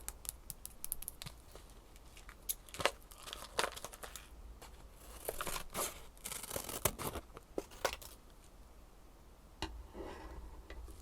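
Close, quiet scissor snips and crinkles of a plastic Pop Rocks candy packet, with irregular sharp clicks and rustling as it is cut open.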